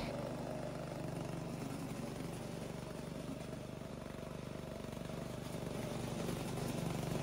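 A Vigorun VTLM600 brushless remote mowing tank runs with its engine going, giving a steady, continuous drone close by with no pauses or voices.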